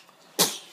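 A sick little boy sneezes once, a single short, close burst that fades quickly into quiet.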